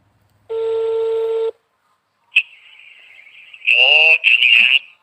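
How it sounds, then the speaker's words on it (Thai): A steady telephone tone plays, then after a pause a thin electronic tone and warbling beeps follow, with a voice briefly heard near the end. "เดี๋ยวแอดก็จะต่อสายตรงไปหาอาจารย์ยอดนะคะ"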